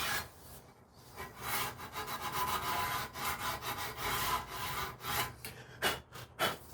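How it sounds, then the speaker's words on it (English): A Porsche Cayenne brake rotor being scuffed by hand with sandpaper or a scuff pad, giving steady close rasping strokes in a loose back-and-forth rhythm, with a few sharper scrapes near the end. "always get a bit of sanding paper or a scuff pad and just re-scuff this"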